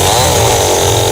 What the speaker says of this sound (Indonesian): kami harus memotong bagian serabut yang menempel pada inti akar dengan gergaji mesin